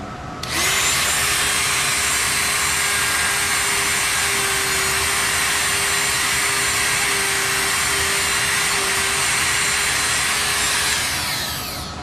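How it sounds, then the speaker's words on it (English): Dremel rotary tool buffing guitar frets, a loud close high-pitched whine that spins up, holds steady for about ten seconds and then winds down. "That's why I use the Dremel."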